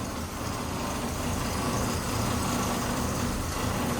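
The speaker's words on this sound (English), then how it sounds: "That vibrating is the exhaust." Steady low rumble of a 1969 Chevrolet C10 pickup truck idling, its exhaust giving a faint rattling vibration, constant and close, with no talking.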